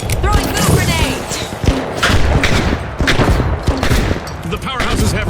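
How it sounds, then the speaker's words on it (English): Chaotic gunfire and explosive thuds from the shooter game The Finals, including a thrown goo grenade, loud and dense throughout with a voice speaking over the action. "Throwing fire. Throwing goo grenade."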